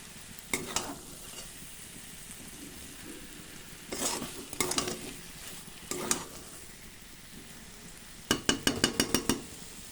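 Spiced fish frying in a pan is stirred with a utensil, giving a steady sizzle broken by scraping bursts and a quick run of clinks near the end, with no talking.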